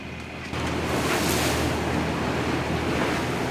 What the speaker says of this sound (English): the waves are steep enough to break over the top